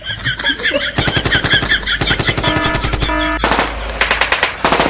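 Rapid automatic gunfire from the Free Fire mobile game, dense bursts of machine-gun shots with short pauses between volleys, loud and close throughout with a faint game voice early on.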